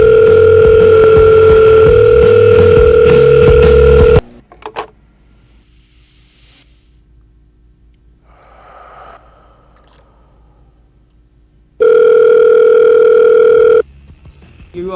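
A loud, steady telephone tone sounds during a call-in line, lasting about four seconds, then falling to near silence before returning briefly for another two seconds.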